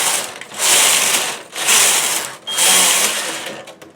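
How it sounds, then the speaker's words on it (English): A knitting machine's lace carriage slides back and forth across the needle bed in three sweeping passes, each a loud rattling, ratcheting run separated by brief pauses, close and with no talk. "I do my 4 rows with the lace carriage again"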